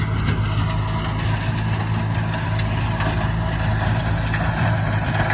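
A John Deere 5095M tractor engine runs steadily at low revs out in a field, a loud, constant close-up diesel drone with no pauses and no voices.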